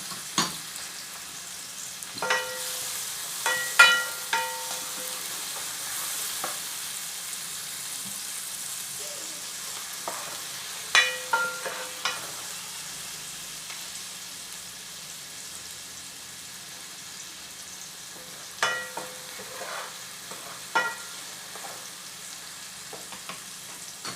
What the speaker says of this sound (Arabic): وبعد ما السمن والزيت بتاعنا دابوا مع بعض وساحوا هنضيف البصل.